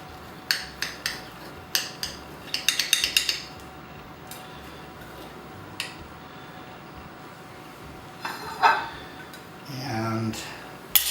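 A knife slicing a pie-shaped wedge from a baked Tesoro frittata, heard as a few close clinks and scrapes against the pan or plate in quick bursts, then a quieter pause and a later soft rustle.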